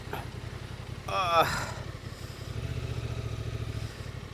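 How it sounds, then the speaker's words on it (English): A Honda Transalp 750 motorcycle engine runs on sand during off-road riding, a steady low throb with a brief louder rev and a clattering burst partway through. "Now we're gonna give it a try with the bike on, try to make some, you know, to go a little bit uphill."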